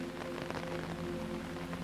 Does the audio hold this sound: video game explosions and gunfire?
no